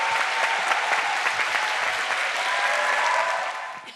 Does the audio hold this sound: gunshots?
no